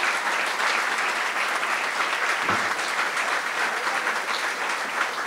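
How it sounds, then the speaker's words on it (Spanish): Audience applause for doctors and scientists at a conference in Cuba: sustained, dense clapping from a crowd, steady and fairly loud throughout with no speech over it. "Yo les pido a todos un aplauso fuertísimo para nuestros"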